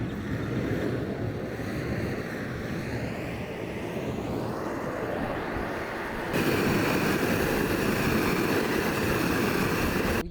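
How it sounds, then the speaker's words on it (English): A flamethrower heats a titanium exhaust for a 2025 BMW S1000RR on concrete, heard as a loud continuous roaring rush that grows harsher and louder partway through, with no talking. "All right, so we got a flamethrower."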